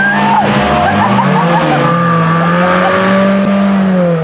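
Race cars launching together at a Rivers race start, with engines roaring close and loud and tires skidding as they pull away, a continuous dense engine drone throughout.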